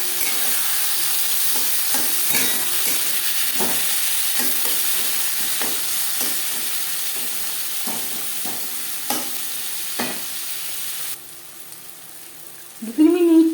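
Onion and tomato fry in oil for a hilsa and potato curry, giving a steady sizzle throughout with intermittent stirring clicks and scrapes; the frying cuts out near the end before a short voice.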